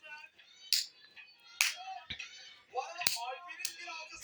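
A small child claps his hands a few times, sharp isolated smacks spaced apart during a messy chocolate surprise-egg opening, with voices talking around them.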